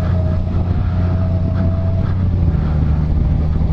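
A 2018 Honda Gold Wing touring motorcycle underway, its steady low engine drone and wind rumble loud and continuous throughout, with no speech.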